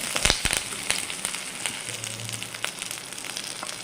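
Sliced onions frying in a pan with dried red chillies and curry leaves, a soft sizzle with scraping clicks as a spoon stirs them close by.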